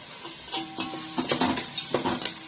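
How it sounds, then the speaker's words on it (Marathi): Onion fries in a pan for whole masoor curry, a steady close sizzle broken by repeated scraping strokes of a spatula stirring in an uneven rhythm. "आता कांदा आपल्याला लालसर चांगला भाजायचा."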